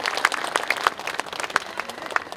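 Audience at a KTX train station stop celebration ceremony claps, an uneven patter of individual hand claps from a modest crowd, moderately loud and close, with no talking over it.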